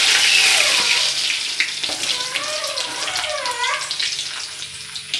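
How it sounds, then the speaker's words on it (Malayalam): Garlic dropped into hot sunflower oil in a pan for Hakka paneer sizzles with a bright, steady hiss up close, crackling on without a break for several seconds. "ആദ്യം നമുക്ക് ഈ ഗാർലിക്ക് ഇതിലോട്ടൊന്ന് ഇട്ട് കൊടുക്കാം."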